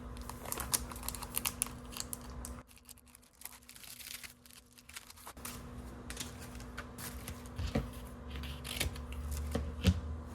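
Foil-look single-sided scrapbook pattern papers are handled up close, giving soft crinkles, rustles and light taps that come in irregular bursts around a short, quieter pause, with no speech.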